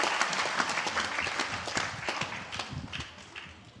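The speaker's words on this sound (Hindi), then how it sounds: "एक बार तालियां बजा के पूज्य आचार्य जी का हम स्वागत सम्मान करते हैं" An audience at a live Shrimad Bhagwat Katha gathering claps to welcome the spiritual teacher, the applause close and fairly busy at first, then thinning into scattered claps as it slowly fades.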